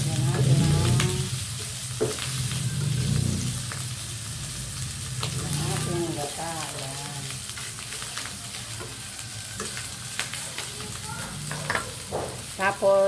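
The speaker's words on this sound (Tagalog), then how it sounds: "Pinalambot ko na itong pork liempo ko para igigisa na lang yan." Softened pork liempo sautéing in a hot pan gives a steady, close sizzle and crackle throughout, with occasional stirring noises and faint voice-like sounds in the background.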